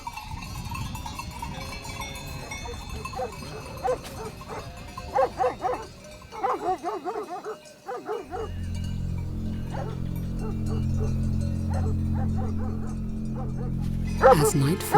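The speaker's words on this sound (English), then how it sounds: "As night falls and the fog rolls in, the Marimanos take up their positions as guard dogs." Maremmano guard dogs bark at night in fog, a string of yips and barks under a narrator's voice, then a low droning music bed takes over.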